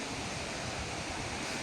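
A waterfall near Coimbatore, Tamil Nadu gives a steady, dense rush of falling water, loud and unbroken like roaring surf, with no voices over it.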